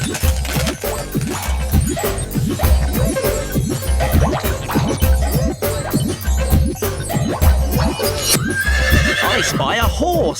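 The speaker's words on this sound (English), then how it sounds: "I spy a horse." A horse whinnies repeatedly over rhythmic hoof clip-clops, with a bright shrill neigh near the end; loud and close.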